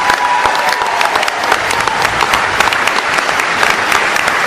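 A crowd of audience members claps loudly for county sheriffs at an event, dense sustained applause close and continuous throughout, with no one speaking over it.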